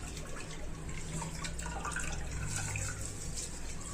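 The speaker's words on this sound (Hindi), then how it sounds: "और इसको मैं घिस घिस के धो लेती हूँ।" Greens being washed by hand in water in a home kitchen, a continuous close sloshing and splashing with soft rubbing and dripping, steady throughout with no talk.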